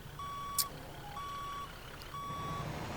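Reversing beeps from a truck in Grand Truck Simulator, three evenly spaced steady electronic tones, clear and moderately quiet over a low engine hum.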